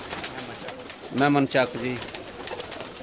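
Pigeons from a breeder's loft coo from a rooftop in Mehmand Chak, Kharian, with a couple of short, rounded coos midway through and a faint voice and background hum around them.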